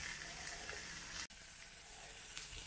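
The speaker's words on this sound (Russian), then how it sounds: "Ну, обжариваем с двух сторон." Food sizzles steadily in a frying pan as it is browned on both sides, a soft continuous crackle with a brief dropout partway through.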